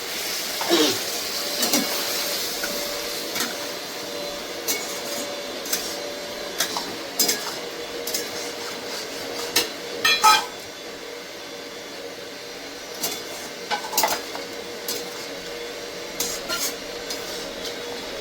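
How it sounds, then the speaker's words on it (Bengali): Okra pieces and a splash of water go into potato masala in a pan. A spoon stirs with scattered clicks and scrapes over a soft steady background hiss. "এবার আমি দিয়ে দেবো ভেন্ডিটা দিয়ে সামান্য একটু জল দেবো।"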